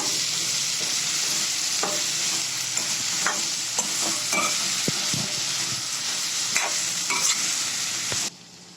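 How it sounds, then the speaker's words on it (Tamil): Vegetables with rock salt are sautéed in a pan for bisi bele bath, giving a loud, steady sizzle with repeated spatula scrapes and knocks that stops abruptly just before the end. "இதோட இது எல்லாத்தையும் 5 நிமிஷம் நல்லா வதக்கிக்கோங்க"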